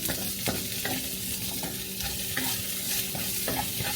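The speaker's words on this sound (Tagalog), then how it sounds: "Nagisa ako guys. Aking garlic." Garlic and onion sizzle and fry in a hot pan, a steady crackling hiss punctuated by sharp clicks and scrapes of stirring, close and fairly loud with no talking.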